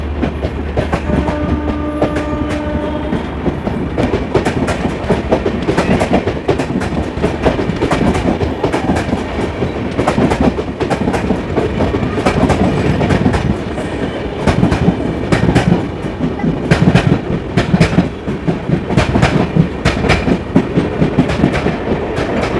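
The Thawe Sabarmati Express, an Indian passenger train, rumbles past loudly and close with continuous clickety-clack of wheels over rail joints and a low engine drone throughout.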